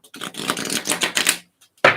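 A new, stiff deck of playing cards is riffle-shuffled close up, giving a rapid flutter of card clicks that stops, followed after a pause by a short, sharp burst as the cards are squared.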